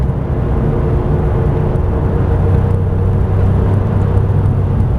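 Porsche 997 GT3 engine held under steady throttle on track at Silverstone, a continuous loud, dense mechanical roar with a low rumble and whir, sustained evenly throughout and heard alone.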